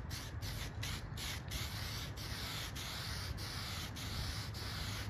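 Spray coating of glazing putty filler over a freshly sanded panel on a 2011 Chevy Malibu, a steady continuous hiss with faint rhythmic rubbing bursts, close and uninterrupted throughout.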